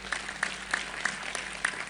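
Moderate applause from an audience at an Indonesian talk, a steady patter of many hands with sharper claps recurring at a fairly regular beat, and no voices over it.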